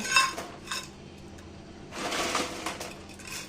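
Dried cluster beans (kothavarangai) tipped into a box in a home kitchen, making two short bursts of dry, clinking rattles, the first brief and the second longer, close by with no voices.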